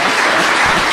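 Audience applause at the close of an evening talk with a priest, dense and steady clapping filling the whole short moment at close range.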